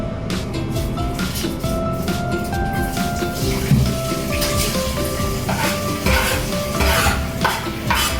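Garlic is stirred in a hot pan for bottle gourd with miswa. A close, steady sizzle runs under scraping and light clatter from the spoon against the pan.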